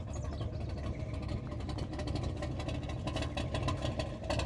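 An ERA Cobra 427 A/C replica engine running close by, a rough, lumpy burble with rapid irregular pulses and clatter that holds steady at moderate loudness.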